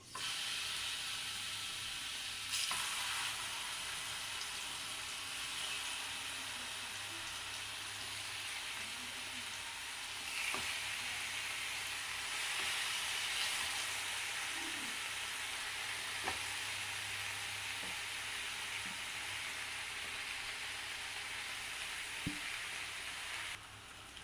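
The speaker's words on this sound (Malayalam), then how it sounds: "നമ്മുടെ പാൻ ചൂടായതിൻ്റെ കുറച്ച് വെളിച്ചെണ്ണ നമ്മൾ പൈനാപ്പിളിൻ്റെ കഷ്ണം അതിലേക്ക് ഇട്ട് കൊടുക്കാം" Pineapple pieces fry in hot coconut oil in a pan, a continuous, even sizzle and hiss with a few faint clicks of utensils against the pan.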